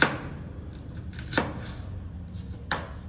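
A knife chops through an onion on a cutting board in a home kitchen, three distinct sharp cuts spaced about a second apart, close and clear with no talking.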